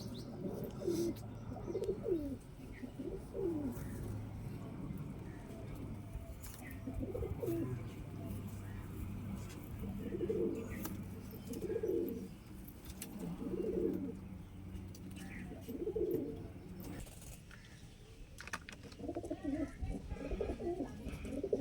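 Giribaz pigeons cooing in a repeated low, rolling rhythm, several distinct coos at moderate distance with faint background noise and no talk.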